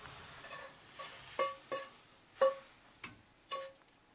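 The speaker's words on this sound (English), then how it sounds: "what we're going to do now is put the apples in here" Apple slices for an apple crumble are laid into a hot pan, giving about five separate soft taps and clatters spaced over a few seconds, each with a short sizzle, against a quiet background.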